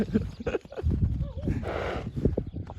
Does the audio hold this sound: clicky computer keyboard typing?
no